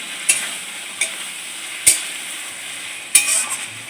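Desi-style mutton curry stirred and fried in a pan: a steady hissing sizzle punctuated by four sharp spatula clacks against the pan at irregular intervals, close and distinct, with no talking.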